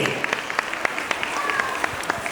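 Audience applause at a school annual function after a Haryanvi song, with scattered distinct hand claps rising over a steady wash of clapping, fairly close, with voices mixed in.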